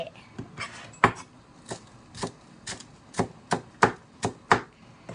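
A knife chops spring onions steadily on a cutting board, about a dozen crisp, evenly spaced thuds, close and clear with no talking.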